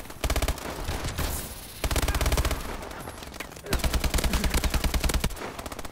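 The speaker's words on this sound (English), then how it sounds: "someone starts shooting from behind me" Rapid automatic gunfire bursts in the Call of Duty: Advanced Warfare video game, loud dense volleys of rattling shots in three long stretches with short gaps between them.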